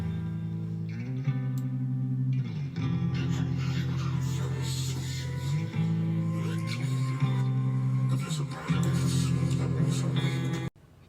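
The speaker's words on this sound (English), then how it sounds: "Together with the clean guitar, it sounds like this." Clean guitar layered with heavily effected, pitched-down film and TV samples in a metal track, sustained and continuous with reverb and echo washing over steady low tones throughout.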